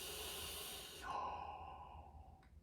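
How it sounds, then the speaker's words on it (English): A voice teacher demonstrates a Darth Vader breath singing exercise: one long, hissy, breathy inhale through a flat tongue and lifted palate, close and fairly quiet, tapering off near the end. "Here, I'll do an example of the Darth Vader breath."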